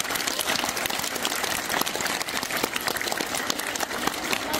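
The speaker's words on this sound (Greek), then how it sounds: "αφού ρίξουμε άλλο ένα χειροκρότημα ωραίο" Schoolchildren applaud at a new primary school, a dense, steady wash of many small hands clapping together without a break.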